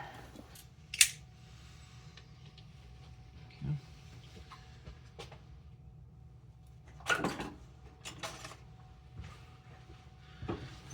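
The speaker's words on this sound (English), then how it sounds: "I'm gonna just use these wire cutters so I can get a nice hopefully clean cut" Wire cutters snip through an automotive wire on a Mk3 Supra throttle position sensor harness, giving a few sharp, close, isolated clicks spread across a quiet room, with faint movement noises between them.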